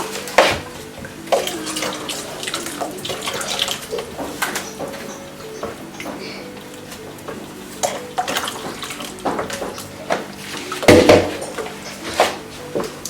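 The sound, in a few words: pouring water into bean powder batter for moi moi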